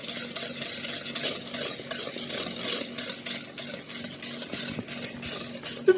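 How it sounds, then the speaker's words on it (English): Homemade brownie batter being mixed in a bowl, rhythmic gritty scraping strokes from sugar particles, close and fairly steady, ending with a louder knock, without talking. "Give it a good mix."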